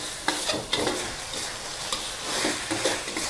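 Herbal pork with curry paste dry-roasted slowly in a pan over medium heat gives a steady soft sizzle, with repeated scraping stir strokes and light clinks of the utensil close by.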